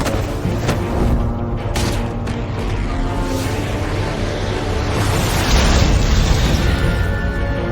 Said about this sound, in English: Use Riddler's trap to protect Iman and myself from the explosion